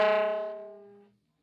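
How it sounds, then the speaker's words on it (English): A tenor saxophone sounds a single split E multiphonic, a sustained chord-like tone with several stacked pitches, loud at first and slowly fading before cutting off after about a second. "Your first multiphonic."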